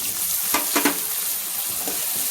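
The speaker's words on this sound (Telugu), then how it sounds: "బఠానీ కూడా ఫ్రై కావాలి" Green peas fry in a pan for a mixed vegetable curry, giving a steady loud sizzle with a few sharper bursts of stirring, and no voices.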